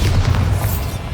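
Bombarda spell in Hogwarts Legacy: a single deep, loud boom with a rumbling low-end body, cut short after about a second.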